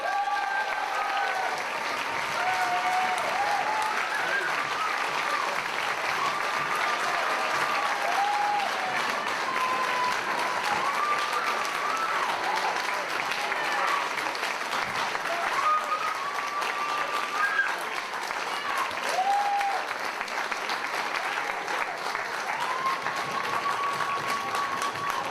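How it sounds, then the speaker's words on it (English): Loud, sustained applause from a comedy club audience cheering the winner of a stand-up competition, dense clapping with scattered whoops running unbroken for the full length. "please, a massive round of applause for Ian Johnson!"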